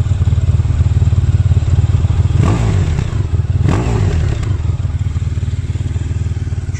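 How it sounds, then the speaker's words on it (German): Honda VFR1200F with DCT and an aftermarket muffler, the exhaust idling loud and close in a steady throbbing pulse, with two brief blips of revving partway through. "Hier mal der Auspuffsound."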